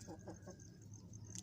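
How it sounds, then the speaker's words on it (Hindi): A rooster and two hens kept in a pen, giving soft repeated clucks in a quick rhythm at moderate distance, with faint background noise. "एक मुर्गा 2 मुर्गियाँ दोनों सेपरेट हैं"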